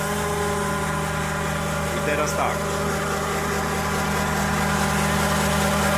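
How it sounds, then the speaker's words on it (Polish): A tanker truck unloading fuel with its rear pump running and the engine driving the pump, a loud steady mechanical drone and hum throughout, with someone speaking briefly over it. "trochę głośno, bo chodzi pompa z tyłu i napęd pompy z przodu jest uruchomiony silnik"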